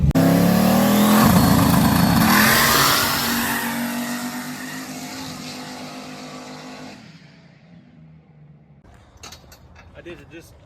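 A car engine revs up loudly, with a strong rising drone at the start that holds steady, then fades as the revving dies down; a few brief clicks and voices follow near the end.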